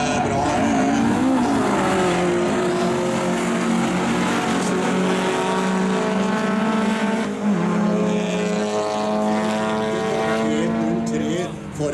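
Historic rallycross cars race through a corner at Gardermoen, engines roaring and shifting pitch as they pass, loud and continuous, with a commentator talking over the racing noise.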